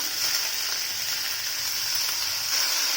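Continuous hissing sizzle of cumin, green chillies, onion and tomato sautéing in hot oil, steady and close, with no voices.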